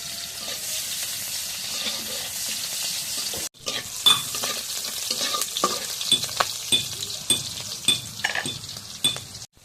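Oil heats in a pan for fried potatoes, a soft steady sizzle that cuts off briefly and then returns with busier crackling, stirring scrapes and light metallic clinks close by.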